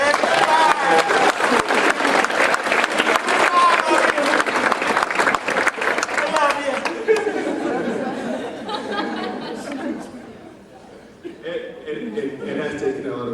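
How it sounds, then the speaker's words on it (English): Strong applause fills a hall at an Upward Bound award ceremony, loud and dense at first, then thinning into scattered claps with murmuring chatter and some laughter. "Let's give them a round of applause."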